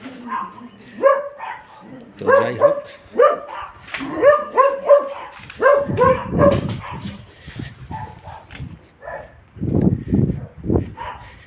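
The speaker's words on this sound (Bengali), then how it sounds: "এখানে কুকুর বেঁধে রেখেছে।" A dog tied up outside a house in a residential area barks several times, with people talking over and between the barks.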